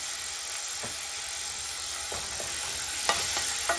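Tomatoes sautéing with salt in a pan for rasam give a steady, close sizzle, with a few sharper clicks from stirring near the end.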